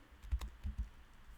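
Soft, close typing on a computer keyboard during a lecture on Impala SQL queries, a handful of light keystrokes in an uneven rhythm with no talking.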